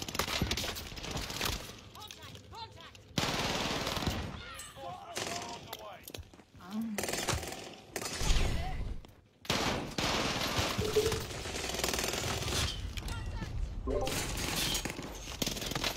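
Video game gunfire crackles in rapid bursts and sustained automatic volleys throughout, loud and dense, with players talking over it.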